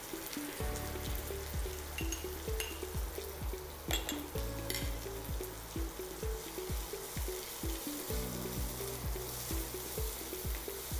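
Onion, garlic and ginger sautéing in a pan, with a steady bright sizzle and a dense run of quick clinks and scrapes from stirring throughout.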